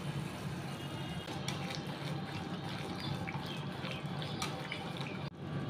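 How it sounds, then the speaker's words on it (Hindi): Water is poured into a simmering gravy for bharva baingan (stuffed brinjal), a steady, close splashing and trickling pour that runs for several seconds. "इसमें डाल देंगे थोड़ा पानी"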